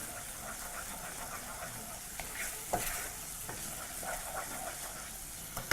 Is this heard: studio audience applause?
no